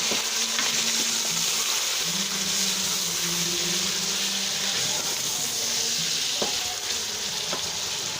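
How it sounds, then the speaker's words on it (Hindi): Chicken pieces fry steadily in a pot of hot oil for biryani, a continuous close sizzle with faint stirring clinks and no talking. "चिकन फ्राई हो रहा है।"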